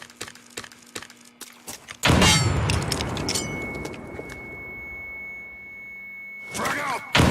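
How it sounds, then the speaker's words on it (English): A frag grenade goes off in a Rainbow Six tactical shooter: sharp taps and clicks, then a loud, booming blast that rolls into a long rumbling decay with a steady tone ringing over it. "Tossing frag! Grenade,"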